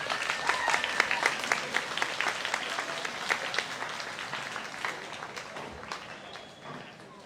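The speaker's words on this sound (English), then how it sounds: "Let's give these kiddos a round of applause." A crowd applauds FFA judging show contestants, dense clapping that swells early, then thins and fades toward the end, heard alone at moderate distance.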